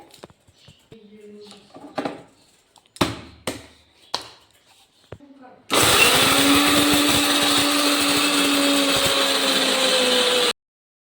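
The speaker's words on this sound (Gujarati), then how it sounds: "હવે એને મિક્સરમાં ગ્રાઇન્ડ કરી લઈએ આપણે" A mixer grinder grinds cashews in a home kitchen, starting abruptly as a loud, steady whirring roar that holds for about five seconds and then cuts off, after a few earlier knocks and taps and faint talk.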